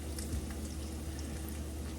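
Battered cheese curds fry in a pan of hot oil with a steady, dense sizzle and crackle that holds at an even, close level throughout, with no talking.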